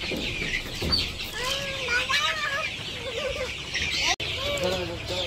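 Chickens cluck and chatter steadily at close range as they are given feed inside a coop in winter, with scattered bird calls over a busy background.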